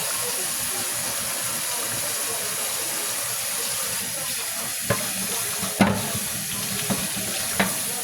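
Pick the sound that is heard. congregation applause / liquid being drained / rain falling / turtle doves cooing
liquid being drained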